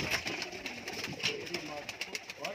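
Golden pigeons coo softly at close range in a pigeon sale setting, their low murmuring calls repeated under nearby talk and background clatter.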